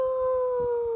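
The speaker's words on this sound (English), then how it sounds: "He howled instead, very loudly." A dog howls loudly and steadily in one long, sustained, tonal note close by, with no talk.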